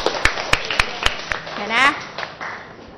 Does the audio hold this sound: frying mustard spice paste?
no